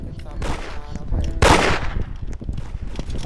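Gunfire in the online shooting game Da Hood, with several sharp shots and one loud, dense burst in the middle, heard alongside voices.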